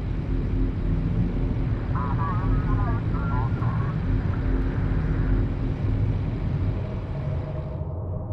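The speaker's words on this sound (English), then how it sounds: "The Galcian aircraft on approach." A Gaalsien aircraft approaches in Homeworld: Deserts of Kharak, a steady droning engine rumble over a broad roar, with a voice talking over it before the sound cuts off abruptly.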